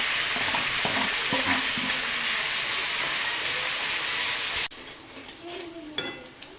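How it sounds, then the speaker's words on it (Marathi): Onion and tomato paste for chicken curry sizzles and fries in hot oil, a loud broadband hiss with faint stirring scrapes. Partway through the hiss drops away sharply, leaving quieter clinks and sputters. "तर मी आता याला मस्त असं तेल सुटेपर्यंत त्याला मस्त असं परतून घेणार आहे."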